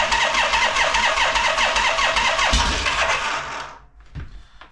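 Harley-Davidson shovelhead motorcycle engine churns loudly and close for several seconds, a steady rough mechanical roar that suddenly cuts out, followed by a few faint knocks and clunks.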